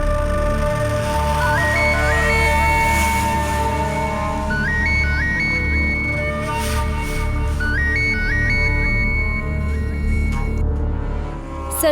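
A mobile phone ringtone plays a repeating electronic melody of rising chimed notes in several bursts over a sustained musical backing, fairly loud and steady for about twelve seconds, with no talking.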